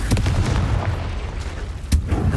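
Confringo spell blasts in Hogwarts Legacy inside a cave, a deep booming burst with a sharp peak near the end over a dense rumbling backdrop.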